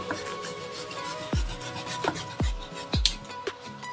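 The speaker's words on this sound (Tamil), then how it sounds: "ஸோ த அதர் சைடு வந்து சிக்கன் கட்டிங் நடந்துட்டு இருக்கு." A knife chops chicken pieces for honey chicken and fried rice on a board, with three or four distinct dull thuds standing out against a background of steady kitchen hiss.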